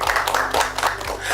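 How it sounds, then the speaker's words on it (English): Brief clapping from a studio audience on a televised accountancy quiz game show, a short burst of a few hands clapping with no talk over it. "A round of applause."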